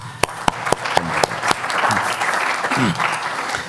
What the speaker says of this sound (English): We can clap hands for you.